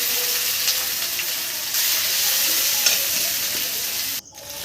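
Onions and garlic fry hard in a pan, a dense, loud, continuous sizzle up close with faint stirring, dropping away abruptly near the end.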